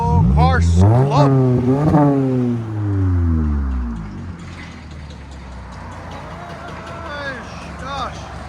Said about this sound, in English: Toyota Camry with a Magnapack mid and rear delete.